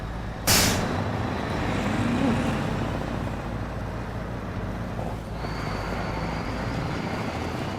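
A Scania truck's air brake in SnowRunner gives one loud, sharp hiss that quickly fades into a steady engine rumble, with a second softer hiss later.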